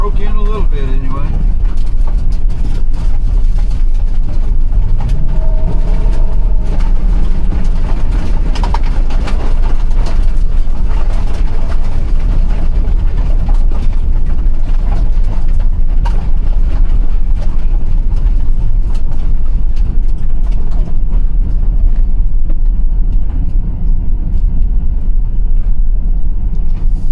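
A 2019 Chevrolet Express 3500 van drives along with a steady, loud engine and road rumble throughout, while someone talks over it.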